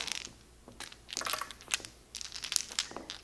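Mah Jongg tiles are turned face down and shuffled around on a table, producing irregular clusters of close, crisp clattering clicks in short bursts separated by brief lulls, without talking.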